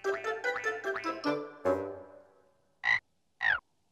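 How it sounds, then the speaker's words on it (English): A cartoon frog croaks in a children's animated show, with a quick series of bouncy, musical croaks that ends in a longer falling tone, then two short separate croaks alone. "Oh, hello, little frog."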